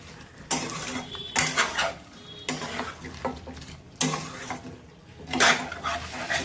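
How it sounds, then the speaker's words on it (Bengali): Potatoes stirred into mutton in a cooking pot, with repeated scraping and clanking of a spoon against metal in uneven bursts over a low sizzle; nobody talks. "আলুগুলো দিয়ে আবার ভালো করে কষিয়ে নেব।"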